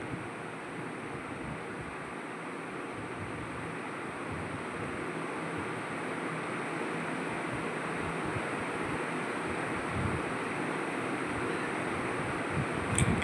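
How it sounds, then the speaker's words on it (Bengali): A pot of thick spiced vegetable gravy at a rolling boil gives a steady, dense bubbling hiss that holds fairly constant and swells slightly toward the end, with no voices. "ঝোলটা যখন ফুটতে আরম্ভ করবে বেশ একটু মশলার সঙ্গে বেশ ফুটে ঘন ঝোল তৈরি হবে"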